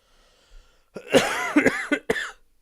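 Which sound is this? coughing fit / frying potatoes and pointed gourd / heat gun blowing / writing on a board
coughing fit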